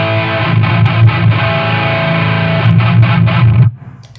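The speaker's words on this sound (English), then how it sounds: "So that's like my main distortion tone that I use" Heavy distorted electric guitar through a distortion pedal followed by a Death Knob effect, played as thick sustained chords for about three and a half seconds, loud and up close, then cutting off abruptly into a faint buzz.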